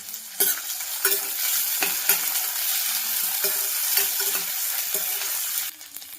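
Onion, dried red chillies and curry leaves fry in hot oil for a tempering, a steady close sizzle broken by repeated scraping stirs of a spatula against the pan, with no voices.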